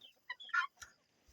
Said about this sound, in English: Here's some little chickens.